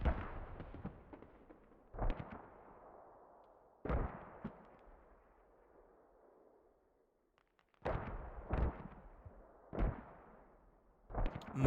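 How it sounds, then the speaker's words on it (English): Heavy mortar impacts in the tactical shooter Squad land in irregular bursts, each a sharp boom trailing into long rumbling decay, some shells spaced apart and others clustered in quick succession, with no voices. "Mortars rocking the place"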